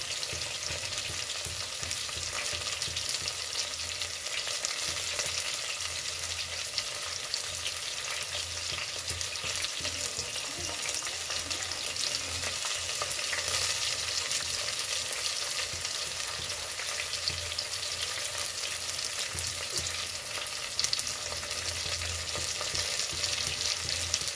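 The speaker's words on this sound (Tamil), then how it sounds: "நான் ஒரு வரமிளகாய் எடுத்துகிட்டு போட்டு போகிறேன்" A dry red chilli fries in a pan, giving a continuous dense sizzle and crackle that holds steady and close throughout, with no voices.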